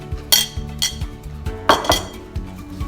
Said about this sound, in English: And then just mix them all together.